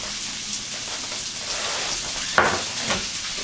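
Venison backstrap sizzles steadily in a hot pan, a dense continuous hiss with a sharp pop or clatter about two-thirds through and a softer one after, with no talking.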